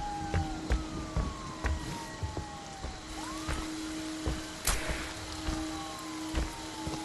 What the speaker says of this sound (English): Whoop, whoop. That's the sound of the police.